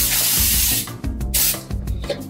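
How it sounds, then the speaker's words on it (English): Cooking spray hisses onto a cake pan in a short close burst lasting under a second, followed by fainter clicks and handling sounds. "We need to spray our pan."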